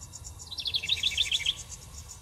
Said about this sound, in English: House wrens are noisy little birds with a huge appetite for insects.